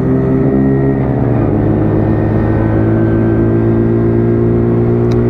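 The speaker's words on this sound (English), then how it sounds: "Pops and bangs." A WK Colt motorcycle ridden on a road gives a steady, loud engine drone with exhaust burble while easing off, the rider's exhaust crackle blending into continuous wind and engine noise.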